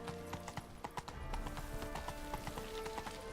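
Horse hooves clatter down a flight of stairs in the video game Witcher 3, giving a rapid, uneven run of sharp clops over faint background music.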